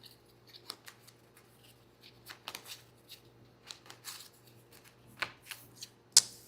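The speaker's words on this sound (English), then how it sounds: "So I will now draw 3 cards. We have the Warden, the Bishop, and then shuffle these up and draw 1 more." A deck of playing cards gets shuffled during a tabletop card game, a series of quiet, crisp papery flicks and rustles in short irregular bursts, with one sharper snap near the end.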